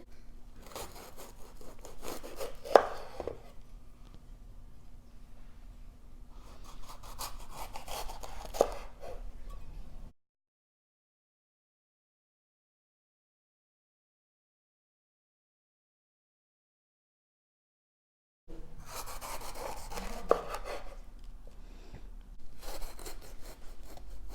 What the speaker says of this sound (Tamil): இப்போ குடைமிளகாயை கட் பண்ணி எடுத்துக்கலாம்.